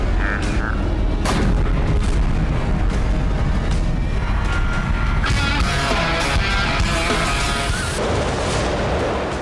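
A FAB-500 aerial bomb detonates on the Kharkiv front in Ukraine. The blast sounds as a loud, sustained boom that rolls on through the whole stretch, with bursts of low rumble and crackle and no voices.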